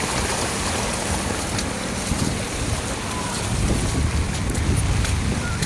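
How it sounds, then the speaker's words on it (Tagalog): Fast floodwater rushes loudly and continuously in a flooded street during heavy rain, a dense broadband roar mixed with wind noise. "Grabe, ang bilis ng tubig."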